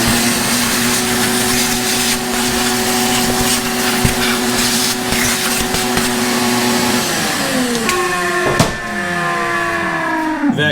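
A vacuum cleaner sucks dirt off a Farmall tractor with a loud, steady whine. Rattles and knocks break in as debris is drawn up, and the motor spins down near the end.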